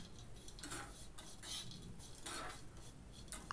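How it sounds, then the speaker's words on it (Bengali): Spatula scrapes and clinks in a pan as fried potatoes are tossed with nuts and sesame seeds, quiet intermittent metallic taps and scrapes in an irregular rhythm, close by with no talking. "ভেজে রাখা ওই বাদামগুলো আর তিল সমস্তটা দিয়ে নেড়ে নেব"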